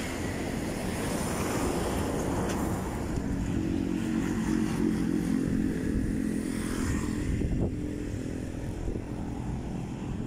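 Motorcycle riding on an open road in Batangas, a continuous engine drone buried under heavy wind rush, steady and loud throughout with slight shifts in pitch as the bike moves.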